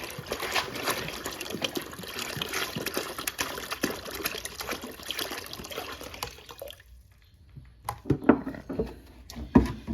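Water pours and splashes steadily into a bucket for several seconds, a gallon filling, then cuts off, leaving a few scattered drips and knocks.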